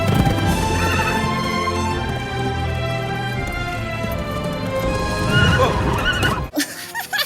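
Horses whinny over the clatter of hooves in a film scene from Ella Enchanted, loud and sustained over a musical backdrop for several seconds before the sound drops away abruptly near the end.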